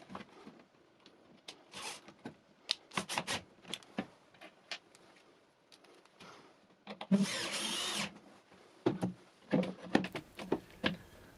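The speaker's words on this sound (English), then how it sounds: "Then attach the hinge plate to the repair plate with the supplied screws." A hinge plate is screwed onto a repair plate for a Euro-style cabinet hinge using supplied screws, with close clicks and short whirring bursts from a driver, including a longer buzzing run midway, amid handling clatter.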